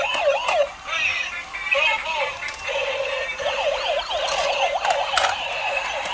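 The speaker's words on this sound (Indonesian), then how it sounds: "Kita mainkan juga ini mobil polisi." A toy police car plays its electronic siren up close: a loud, warbling wail of repeated rising and falling sweeps with a few sharp clicks between them.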